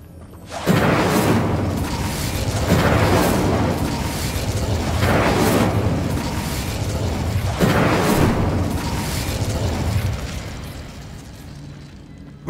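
Fire spell cast over and over in Hogwarts Legacy, a string of loud, booming whooshing bursts that swell about every two to three seconds and run together continuously.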